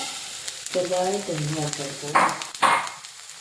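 Flattened rice (aval) roasting in ghee in a pan for aval kesari, giving short bursts of sizzling and stirring that follow a stretch of close speech.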